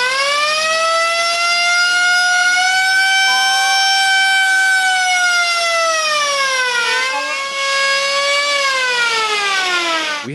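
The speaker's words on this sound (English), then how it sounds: "We have a Siren made with reverse engineering. And it sounds nice, doesn't it?" A homemade copy of an industrial siren, spun by a drill, wails loud and steady with strong harmonic tones, holds its pitch, dips down and climbs back, then sags at the end as it slows.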